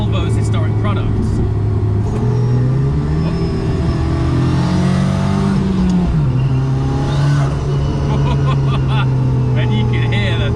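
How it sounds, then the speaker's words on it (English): A Volvo P1800 restomod by Cyan with a touring car engine revs loud and close, pitch climbing then dropping sharply as the throttle lifts, with turbo flutter and a voice talking over the steady engine roar. "you can hear the turbo flutter as you lift off"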